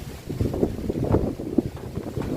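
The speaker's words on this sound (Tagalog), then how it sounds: "grabe ang lakas na ng hangin, no?" Strong typhoon wind buffeting outdoors, a loud continuous low roar with gusty rumbling surges throughout.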